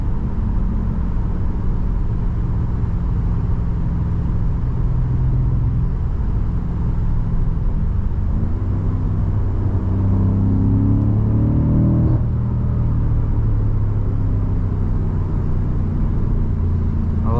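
A 2021 BMW M5 Competition engine rumbles loudly and steadily from inside the cabin while driving, held at a constant pitch with a slight rise and fall in revs midway.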